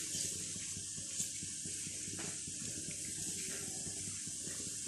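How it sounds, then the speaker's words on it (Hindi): Water poured from glasses steadily into a pot of rice for chicken biryani, a continuous hissing splash that stays even throughout, close and moderately loud. "3 ग्लास इसमें पानी ऐड किया गया।"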